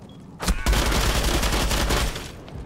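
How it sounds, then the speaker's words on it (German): Gunfire in the video game Rainbow Six Siege, a sharp first shot followed by a dense rapid burst of automatic fire lasting well over a second, loud and close. "der erste Schuss hat verzogen"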